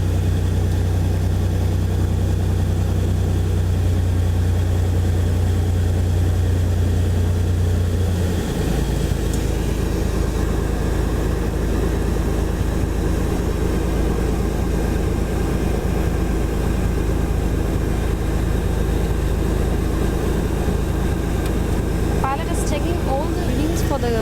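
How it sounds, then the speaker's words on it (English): Engine of a Cessna 206H light aircraft during a ground run, a steady droning hum that drops in pitch partway through and continues as a broad rumble, close and loud throughout. "now we're going for the ground run, after which we'll experience the climb, takeoff, climb and the landing of this aircraft"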